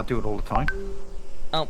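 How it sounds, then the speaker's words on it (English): A short electronic notification chime rings out between a man's spoken words, a clear two-tone ping that holds for about a second, close and fairly loud. "sorry about the notification noise"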